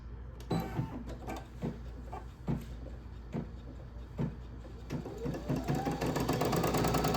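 An embroidery machine on a hoop starts an applique placement stitch, a few separate mechanical clunks and thumps, then a rising motor whir and fast rapid needle chatter building in speed.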